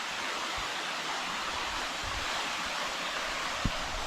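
A rainforest waterfall in Costa Rica gives a steady, loud broadband rush of falling water, unbroken and close, with a faint thump near the end and no voices.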